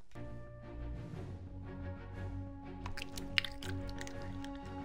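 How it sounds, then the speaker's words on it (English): Soft, close chewing of food in repeated wet, squishy bites at a low level, with a steady background hum. "Can you stop chewing?"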